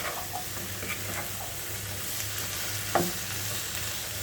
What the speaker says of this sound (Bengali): আমি এটিকে খুব সুন্দর করে ভেজে নিচ্ছি এটিকে বেশ ভালো করে নেড়ে চেড়ে